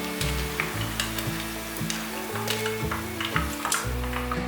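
Vegan shrimp deep-fry golden in hot oil, a constant close sizzle and spatter running beneath steady tonal background music, with no voices.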